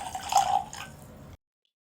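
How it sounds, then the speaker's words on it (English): Glenfiddich Grand Cru whiskey poured into a Glencairn glass, a short trickling splash lasting about a second, close and fairly quiet, then silence. "So we're gonna pour it in our trusty Glencairn."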